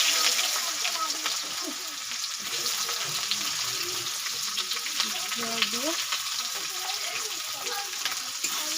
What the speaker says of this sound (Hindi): इसमें जीरा दे दिए हैं, उसके बाद दे रहे हैं प्याज।